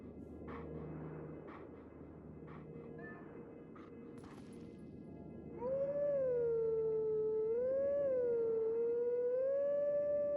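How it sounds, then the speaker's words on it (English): In the Zelda Twilight Princess video game, a wolf howls a melody: a sustained, wavering, theremin-like tone that rises and falls in pitch, entering loudly midway over a faint game backdrop and continuing steadily to the end. "Howling sounds more like a theremin than howling."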